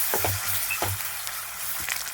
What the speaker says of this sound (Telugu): వేసుకుని పచ్చివాసన పోయేంత వరకు వేపుకోవాలి.